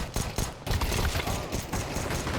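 Gunfire during a Counter-Strike match, a dense cluster of loud, close shots in quick irregular bursts.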